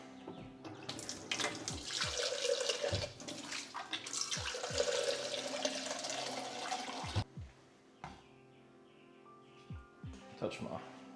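Tap water runs steadily into a measuring jug in a home kitchen while pickled onions are being made, a continuous splashing stream with clinks of the jug, under a person talking, before the flow cuts off and quieter handling sounds follow.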